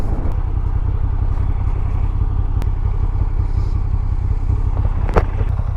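A 2022 Moto Guzzi V7 Stone twin-cylinder engine idles steadily with a low, even throb, close and alone, with a faint light tap partway through.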